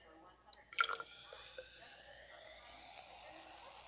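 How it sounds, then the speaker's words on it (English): A drink is poured into a glass: a faint liquid splash and trickle with a few drips, brief and soft against a quiet background. "Don't pour it in so fast."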